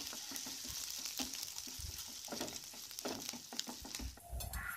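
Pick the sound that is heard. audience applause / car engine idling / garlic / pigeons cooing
garlic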